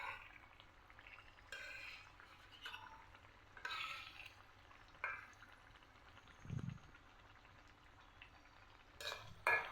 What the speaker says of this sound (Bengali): এর জন্য অল্প হিট দিয়ে সুন্দর করে ভাজতে হয় নাস্তাগুলো